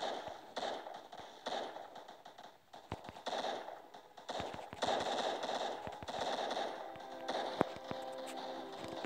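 Rapid bursts of gunfire crackle through a Roblox Zombie Attack match, sharp repeated shots over a busy game soundtrack, with someone talking now and then.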